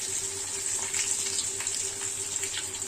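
Curry leaves dropped into hot oil with fenugreek and garlic for a Tamil pakoda kulambu, giving a steady, close, loud hiss and sizzle with a faint crackle that holds evenly throughout, with no talking.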